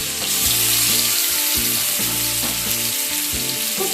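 Chicken pieces fry in a small amount of hot oil over a medium gas flame, giving a steady, close sizzle with a low rhythmic thudding repeated beneath it throughout.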